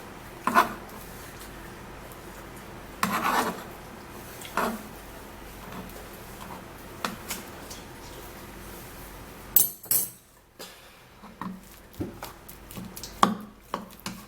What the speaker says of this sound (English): I'm actually going to be smashing this with my little tiny mortar.